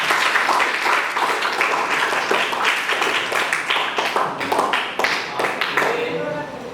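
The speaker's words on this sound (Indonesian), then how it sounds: "beri tepuk tangan untuk kelompok 4" A class claps for a student group at the end of their presentation, a burst of dense applause that thins into scattered individual claps toward the end, with voices chattering underneath.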